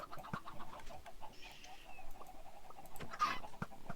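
Several chickens cluck and squawk in short bursts in a video game chicken farm, over soft pattering footsteps, with no talking.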